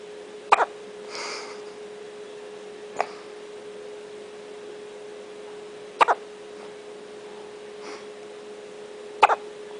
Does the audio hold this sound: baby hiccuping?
yes